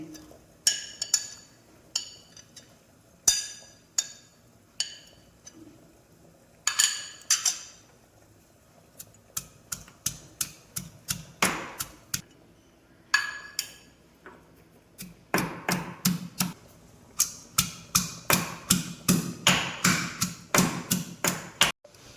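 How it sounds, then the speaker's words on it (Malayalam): Shallots being crushed for rasam with a series of sharp taps and clinking knocks, irregular at first, then settling into quick rhythmic pounding, close and alone with no voices. "ഇപ്പം നമുക്ക് ഈ ഉള്ളിയൊക്കെ ഒന്ന് ചതച്ചിട്ട് വരാം."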